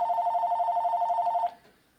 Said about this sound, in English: I'm getting a lot of phone calls today.